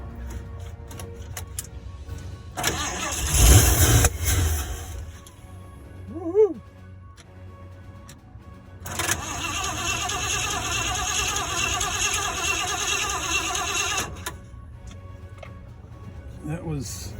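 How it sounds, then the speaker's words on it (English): A 1975 Ford E100 van engine cranks and catches in a parking lot, with a loud burst of starter and engine noise, a pause, then a longer steady run before cutting off, with people talking nearby. "We're gonna try and start it up again."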